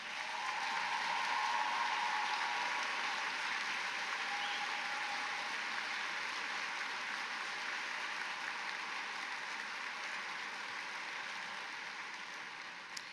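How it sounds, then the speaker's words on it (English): Sustained applause from a large audience at a high school graduation ceremony, a steady broad wash of clapping that slowly fades toward the end, with no talk over it. "please stand to be recognized by our graduating seniors and their families with a round of applause"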